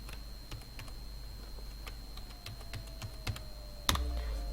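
A password is typed on a computer keyboard in a quiet room, with a short run of separate, fairly soft key clicks and a sharper final keystroke.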